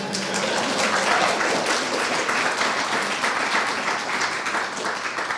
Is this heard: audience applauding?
yes